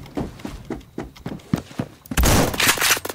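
Gunfire in the shooter game Phantom Forces: a series of spaced single shots at a slowish rhythm, followed by a sudden, louder sustained burst of noise at the end, with no talking.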